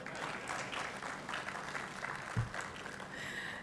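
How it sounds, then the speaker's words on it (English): An audience at a national ICT week conference applauds steadily, a dense continuous clapping throughout with no break. "clap well."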